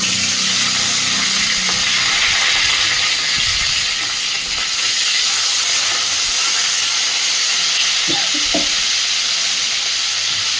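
Onion and potato pieces fry with garlic in hot oil, giving a loud, steady, continuous sizzle and hiss, with a few soft stirring knocks near the end.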